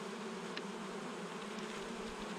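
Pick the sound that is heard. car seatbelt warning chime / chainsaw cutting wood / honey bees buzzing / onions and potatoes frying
honey bees buzzing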